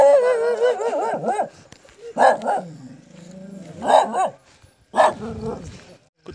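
A dog in a hill village barks and whimpers up close in several loud, yelping bursts spread out with short pauses between them; a whining tone carries through the quieter gaps.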